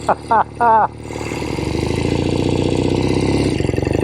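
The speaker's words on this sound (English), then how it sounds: "this is one of my dream bikes to ride. Especially with a chrome and red tank like this." A motorcycle with a chrome and red tank runs while being ridden, its engine throbbing steadily and growing louder after a short spoken opening, close to the rider.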